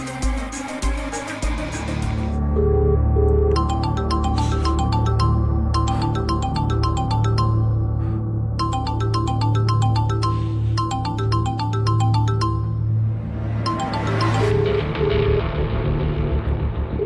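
A mobile phone rings with repeated bursts of a bright electronic ringtone pattern over a loud low rumble, the rings coming in groups with short gaps between them.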